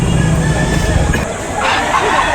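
Roosters at an outdoor Saturday chicken market behind SM City Lipa in Batangas crow and cluck under a loud crowd babble with nearby voices, the birds partly masked by the busy hubbub.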